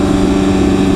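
A 2016 BMW S1000RR Premium Package motorcycle's loud exhaust drones steadily at close range while riding, a constant low engine roar through the whole brief moment.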